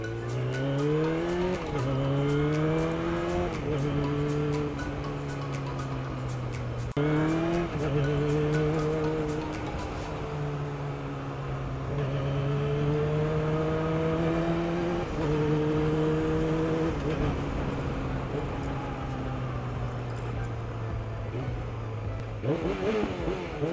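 A Yamaha R6 sport motorcycle on a fast test ride, its engine revving high through repeated rising pitch sweeps and gear shifts, loud and close with steady wind noise throughout.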